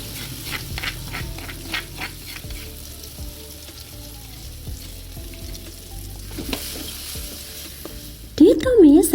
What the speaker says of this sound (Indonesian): Ditumis sampai bumbunya matang dan juga tidak bau langu.